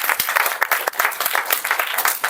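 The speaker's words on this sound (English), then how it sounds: "Can we have a big round of applause for all the speakers?" An audience at a Toastmasters club meeting claps for the speakers, a brisk burst of close, crisp handclaps with individual slaps standing out in a steady patter.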